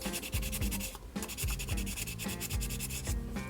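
Sandpaper rubs over a plastic vintage Knight Gundam model kit in quick, rhythmic back-and-forth strokes, close and scratchy, with a brief pause in between and no talking.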